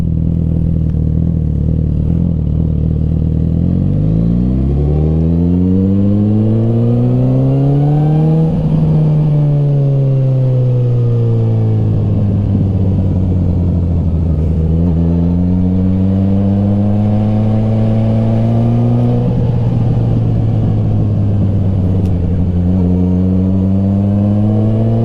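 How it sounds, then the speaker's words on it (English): A 1000cc sport motorcycle engine runs loud and close, rising in pitch through several revving pulls with brief drops between them, held steady over about 25 seconds. "You have to pull back pretty far to get the bike to go and accelerate."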